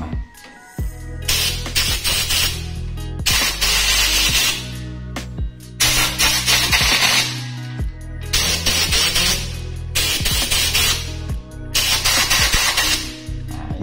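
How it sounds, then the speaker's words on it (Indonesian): An air compressor blows bursts of air onto a projector's lamp fan, a loud hissing spray repeated in about five long blasts with brief pauses. Between blasts the compressor motor hums and clatters. "Saya akan apa itu semprot dengan kompresor ini ya."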